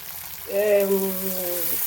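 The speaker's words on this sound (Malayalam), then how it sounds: "കടുകിട്ട് പൊട്ടി ഉലുവയിട്ട് പൊട്ടി ഇനി രണ്ട് മൂന്ന് വറ്റൻമുളക് ഇടുന്നുണ്ട്" Mustard seeds, fenugreek and dried red chillies fry in hot oil in a home kitchen, giving a close, steady sizzle that swells as the chillies drop in, with a tonal hum running over it.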